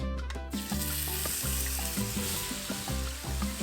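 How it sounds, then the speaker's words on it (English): Puerto Rican sofrito hitting hot cooking oil in a pot, a sudden burst of sizzle that settles into steady frying with some clinks and tonal clatter. "Once it's hot, add light cooking oil. Now you'll add Puerto Rican sofrito."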